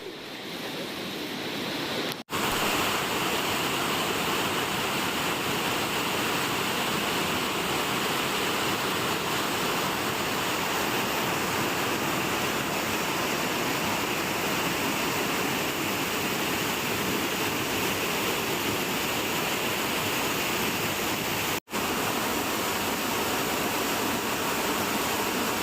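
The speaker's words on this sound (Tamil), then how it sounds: "உடுமலை பஞ்சலிங்க அருவியில் திடீரென ஏற்பட்ட வெள்ளப்பெருக்கால்" A sudden flood surges over the Panchalinga waterfall at Udumalai, Tiruppur district, a loud, steady roar of rushing water that fills the whole stretch without pause or voices.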